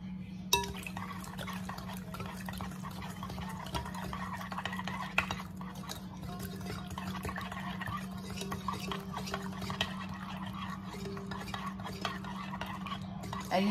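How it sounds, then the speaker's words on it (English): Pudding is being mixed with a hand mixer, a steady low motor hum running throughout with faint scraping and clinking against the bowl, fairly quiet and close. "So we're gonna do a little mixy mix with my handy mixer here."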